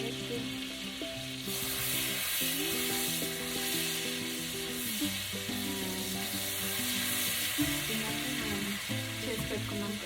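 Cumin seeds crackle and sizzle in hot oil for aloo gobi masala gravy, a dense, steady frying hiss that holds throughout, close to the pan, with faint background music-like tones.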